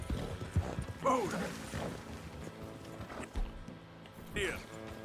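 Horses' hooves clip-clop in the Western game Red Dead Redemption 2, a few uneven clops at moderate distance mixed with harmonica-tinged background music and brief speech.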